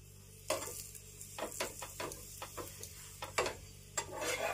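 A cauliflower paratha fries slowly in white oil on a pan, with a quiet low sizzle punctuated by a string of sharp spatula taps and clinks against the metal, close by and without speech.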